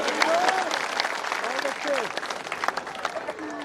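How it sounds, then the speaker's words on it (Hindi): A crowd claps loudly and steadily while a voice speaks over the applause. "जोरदार तालियां बजाओ"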